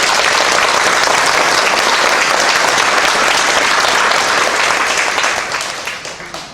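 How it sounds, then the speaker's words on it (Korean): A church congregation applauds during a pastor's installation and emeritus ceremony, a loud, dense sustained clapping that holds steady for several seconds and then begins to fade toward the end. "우리 박수 한번 쳐주시죠."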